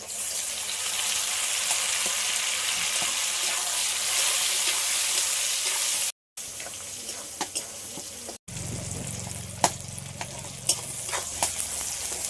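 Chopped tomato frying in a pan for a mango chicken curry gives a steady, loud sizzle. After two short gaps it turns into crackling spatter with occasional sharp pops and stirring sounds.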